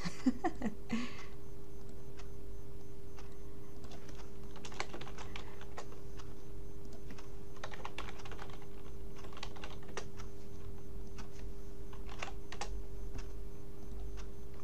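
Fingers type on a computer keyboard in quick, uneven bursts of light clicking and tapping, close by and fairly quiet over a faint steady hum.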